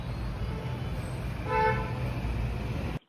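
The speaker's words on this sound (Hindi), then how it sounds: "पहले एक बार आप बाहर का नॉइज सुनिए, पीछे ट्रैफिक का अच्छा खासा नॉइज आ रहा है।" Traffic noise from a busy road rumbles steadily, with a car horn honking clearly once in the middle before the sound cuts off abruptly.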